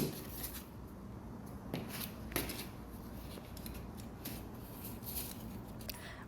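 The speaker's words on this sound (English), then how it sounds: "Cut diamond paper." Scissors cut through number 1500 brass diamond paper used for polishing an old Omega watch crystal, a close, crisp series of rasping snips and paper rustles, quiet and steady with no voices.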